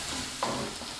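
Green chillies fry with ginger garlic paste in hot oil, a close steady sizzle broken by one short scrape of a stirring spoon.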